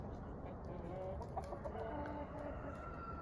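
Chickens in a coop with a young rooster cluck and murmur faintly at a distance over a low, steady background rumble.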